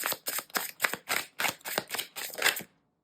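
Oracle cards are shuffled by hand in a quiet room: about nine quick, crisp riffling bursts in a steady rhythm, close and fairly soft, then silence.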